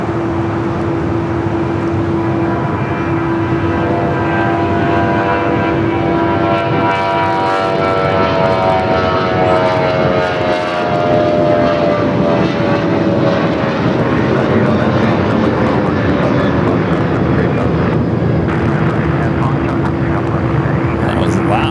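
A jet airplane departs from Los Angeles LAX airport, its engine roar loud and rising then slowly shifting in pitch as it passes, with people talking over it.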